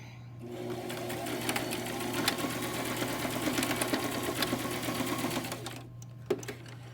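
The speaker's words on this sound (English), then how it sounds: "Sewing my darts on the front piece." Home sewing machine stitching darts on the front piece of a purple fabric face mask, a steady close whirring hum with rapid needle ticking that runs for several seconds, then stops and resumes briefly.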